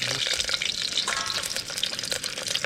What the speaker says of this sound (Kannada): ಈಗ ಮೊಟ್ಟೆನ ಫಸ್ಟು ಫ್ರೈ ಮಾಡ್ಕೋಬೇಕು ಈ ಒಂದು ಕುಕ್ಕರಲ್ಲಿ